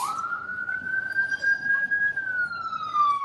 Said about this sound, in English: Sorry about the siren going by.